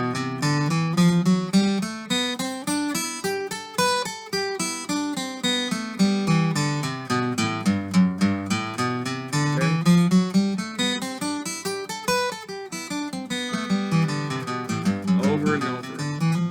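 Electric guitar cycling through a chord-change exercise, strummed chords shifting back and forth between two shapes over and over in a steady rhythm, close and clear with no talking.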